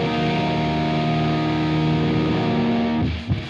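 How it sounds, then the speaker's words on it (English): Electric guitar strums sustained, heavily distorted open and power chords through an Axe FX amp modeler on a high-gain patch, ringing loudly then cut off abruptly near the end. "I'm just going to play some open chords, some power chords with a couple of different tones here on the Axe FX"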